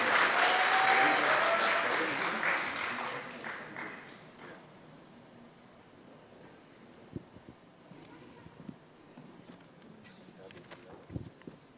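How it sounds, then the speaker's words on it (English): Audience applause at a community annual arts festival and exhibition, loud at first and tapering off within a few seconds, followed by scattered quieter claps, a cheer and some crowd murmur. "So another big round of applause."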